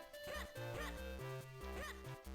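A dog barks in The Legend of Zelda: The Minish Cap, the game's chiptune dog sound: a few short yips stand out over a looping, stepped game melody.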